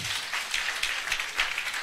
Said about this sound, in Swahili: Simupigieni Dorcas makofi.